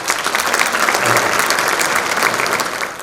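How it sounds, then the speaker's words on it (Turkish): An audience claps during a university TV program in Turkey, dense and sustained applause that stays loud and even from start to finish, with no speech on top. "Bu da bunu da alkışlamak lazım."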